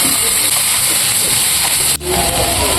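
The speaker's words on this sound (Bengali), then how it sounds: "এবার চিকেনটা অল্প ভেজে নেব।" Chicken pieces fry in ghee with black peppercorns in a pan, a loud, close, continuous hiss with one brief dip near the end.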